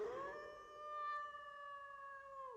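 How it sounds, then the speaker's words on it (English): A beast lets out a single sustained howl, a clear tonal cry that holds steady and fades out after a couple of seconds, heard alone and fairly close. "Howling?"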